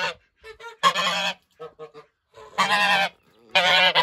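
A goose honks loudly in three long, harsh bursts separated by short pauses and softer clucking calls, close by.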